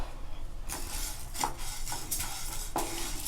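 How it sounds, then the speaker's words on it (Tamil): Black urad dal is dry-roasted in a pan, with a few firm stirring strokes that rustle and scrape the lentils against the metal over a faint background hiss. "நம்ம எடுத்து வச்ச கருப்பு உளுந்தை இதில் நல்லா செவக்க வறுத்துக்கலாம்."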